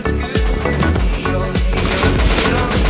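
Rapid automatic gunfire from the survival game Rust, loud and dense with sharp repeated bursts and heavy low booms across the whole stretch, no talking over it.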